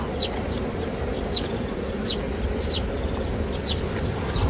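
Honey bees swarm around an opened hive during a frame inspection, a dense continuous buzz with individual bees zipping past close by, steady and moderately loud.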